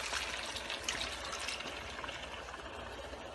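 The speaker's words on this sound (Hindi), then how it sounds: "और डालेंगे दूध" Milk poured into a pot of white biryani spiced with cardamom garam masala, a steady close liquid stream with broad hiss throughout.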